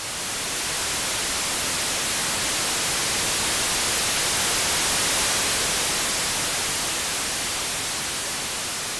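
An Elektron Machinedrum noise voice with a slow attack envelope produces steady broadband hiss that swells gradually in loudness and then eases slightly, continuous and close with no talking.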